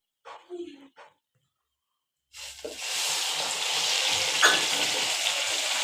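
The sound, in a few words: ginger-garlic tomato-onion paste frying in a kadai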